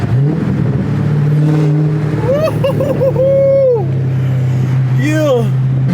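Manual Dodge Hellcat with catless mid-pipe exhaust, a loud, steady raspy idle drone that rises into several quick revs near the microphone, with people talking over it.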